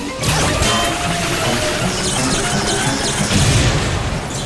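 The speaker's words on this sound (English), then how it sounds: "Couch wash-o-matic explodes." A cartoon couch wash-o-matic that unfolds into a bath blows apart in a loud, sustained crashing explosion, dense debris clatter and rumbling booms running continuously with a second surge near the end.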